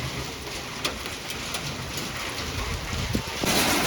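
Steady continuous rain falling outdoors, a dense even hiss with a few sharper drips on surfaces, holding at the same level throughout.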